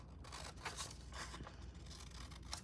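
Quiet, close snips and light scraping of scissors cutting paper scraps for a journal-cover collage, a few separate cuts spread across the moment with no voices.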